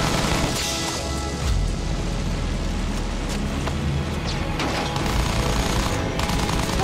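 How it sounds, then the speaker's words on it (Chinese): Machine gun fire in the Battlefield 1 video game, dense bursts crackling continuously over rumbling battle noise for several seconds, moderately loud and somewhat distant. "这么远，他们机枪根本打不准。"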